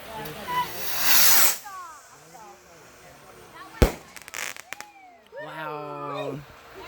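Small fireworks go off outdoors with a rushing hiss, a sharp loud bang and a spatter of crackles, while people talk and exclaim nearby throughout.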